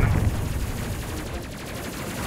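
Triple plasma turrets fire in Space Crew, a rapid, steady stream of buzzy pulsed shots at moderate loudness, continuous for a couple of seconds without speech.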